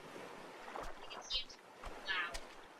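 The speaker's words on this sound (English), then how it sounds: "Paddle noise." Two short splashy paddle strokes in the survival game Stranded Deep, moderately loud over a soft wash of water and wind, with no talking.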